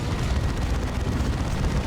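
A plasma cannon explodes in the real-time strategy game Dawn of War 2, a dense, sustained rumbling boom with continuous low-end roar that fills the whole moment without voices.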